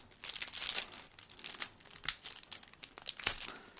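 Wrapped board game card packs being torn open, with a rapid series of close, crisp plastic crinkles and rustles that come in irregular bursts and sharp snaps.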